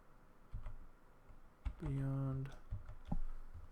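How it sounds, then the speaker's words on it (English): Scattered keystrokes on a computer keyboard, quiet and uneven, with a brief voiced sound partway through. "Let me just type it in here."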